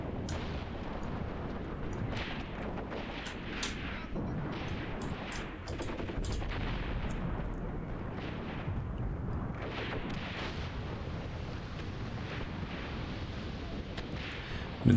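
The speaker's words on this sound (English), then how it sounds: "Machine guns, are you engaging?" Sustained battlefield gunfire from the Graviteam Tactics war game, a dense continuous rumble of automatic weapons and artillery with sharp cracks scattered throughout, loud and steady with no talk.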